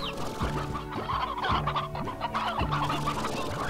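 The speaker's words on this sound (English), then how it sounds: "while we're here, we could get some more Briar Hens," Briar Hens in the video game Slime Rancher cluck repeatedly in a quick, steady rhythm. Several close, distinct clucks overlap against faint game background sound.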